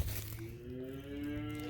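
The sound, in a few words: cows mooing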